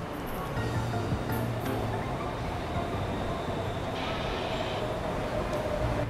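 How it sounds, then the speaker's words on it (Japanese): Steady rumble of elevated trains passing at a distance on Bangkok's BTS Gold Line, a continuous rolling roar with faint mechanical whine, no talking. "もう行ったり来たりすごいですね列車が。"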